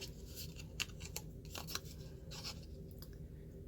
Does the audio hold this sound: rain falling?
no